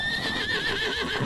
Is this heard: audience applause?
no